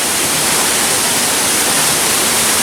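A Tennessee waterfall roars in a steady, loud, broadband rush of falling water, close by and unbroken, with no voices over it.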